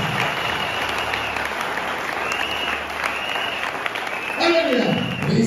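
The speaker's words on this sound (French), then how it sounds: "On acclame le roi." A church congregation applauds steadily to acclaim the king during a sermon, a dense, sustained wash of clapping with voices mixed in, and a rising shout near the end.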